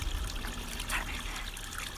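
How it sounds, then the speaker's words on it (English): Water laps gently against the hull of a sailing boat at sea, a steady soft trickling and sloshing with a slight swell near the middle, no voices. "The water gently lapped against the boat"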